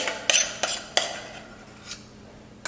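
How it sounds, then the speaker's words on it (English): A metal spoon scrapes and knocks against a metal pot, digging out food in a handful of sharp, separate clinks and scrapes, close and fairly quiet, with no talk. "I feel like you're not supposed to use like a metal spoon. Digging out of a metal pot"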